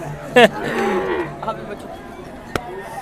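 An Australian Friesian cross cow, shown for sale, gives one loud, close moo near the start, then falls quiet over a murmur of voices and a single sharp knock.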